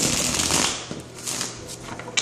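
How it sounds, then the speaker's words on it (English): Tarot cards being shuffled by hand at close range make rapid riffling and flicking, a dense papery flutter that eases off into a few separate snaps and taps. "one more shuffle"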